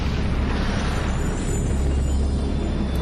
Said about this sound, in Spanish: A partir de una gran explosión inicial, a partir de una singularidad infinitesimal, el universo estalló.